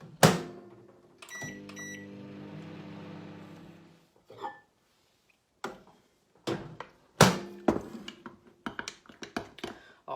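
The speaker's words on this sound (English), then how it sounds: "now we're going to put our chocolate into the microwave" A microwave oven heats dark and milk chocolate: a steady running hum for about three seconds between door clunks and beeps, followed by scattered knocks and handling sounds.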